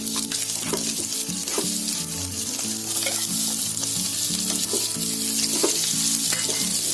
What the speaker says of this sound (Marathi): हे काजू चांगले फ्राय करून घ्यायचे.